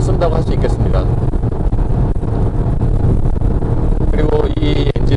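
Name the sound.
Audi Q3 35 TDI diesel engine revving high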